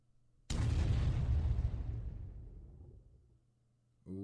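A tank shell from the strategy game Heroes of the Red Star slams into a building with a single loud, deep boom that rolls off and fades over about three seconds, heard alone.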